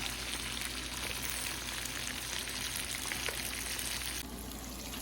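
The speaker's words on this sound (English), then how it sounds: "I added some diced onion and diced celery into it and let that cook down" Diced onion and celery cooking down in a pan, with a continuous close sizzle and fine crackle that drops slightly toward the end and has no talking.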